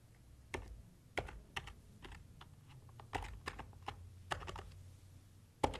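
Close, quiet keystrokes on a computer keyboard while a spreadsheet formula is entered, coming as irregular single taps and short clusters over a low background hum, with no talk.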